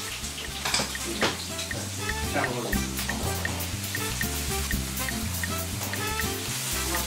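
Onion and meatballs frying together in a pan for Calabrian fileja, a steady, soft sizzle and crackle that goes on throughout, with one brief spoken word.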